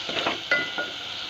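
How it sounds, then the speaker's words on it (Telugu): Tomato paste fries in oil in a pan for egg biryani, a soft steady sizzle with a few light stirring scrapes close by. "ఈ టమాటా పేస్ట్ని కూడా ఆయిల్ తేలేంత వరకు బాగా ఫ్రై చేసుకోవాలి."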